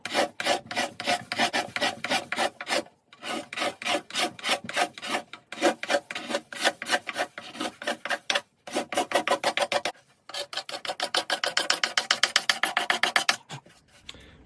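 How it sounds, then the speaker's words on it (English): Rhythmic rasping strokes of sandpaper on the wooden top of an archtop guitar, close and loud, coming in rapid bursts with brief pauses between runs. "it needs a thorough sanding, pretty much to final grade"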